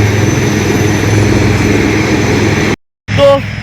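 Army helicopters at a military exercise on a brigade parade ground, a steady loud rotor and engine roar that fills the scene, cut briefly by a gap near the end before the drone resumes.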